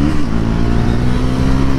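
A Bajaj Pulsar NS 400Z motorcycle pulls hard in third gear, its engine a loud, close, continuous rising drone with strong low harmonics and no talk over it.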